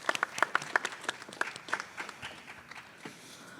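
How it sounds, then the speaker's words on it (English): A scattered, thinning round of applause at a high school honors night, with a few sharp individual claps at first that taper off into quieter, sparse clapping. "So I want to give you a round of applause for all your accomplishments."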